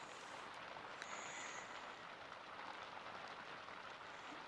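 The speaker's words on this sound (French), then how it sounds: "Nous sommes accompagnés par la douce pluie aujourd'hui." Gentle rain falling outdoors, a soft, steady hiss of drops pattering on surfaces, faint and continuous with a few slightly louder drips, with no voices.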